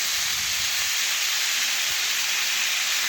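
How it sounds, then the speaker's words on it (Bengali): Diced papaya sizzles steadily in a hot pan while being stirred with a spatula, a close, continuous bright hiss of frying with faint low scrapes underneath. "এখন খুরপি দিয়ে ভালোভাবে একটু নাড়াচাড়া করে একটু ভেজে নিচ্ছি পেঁপে"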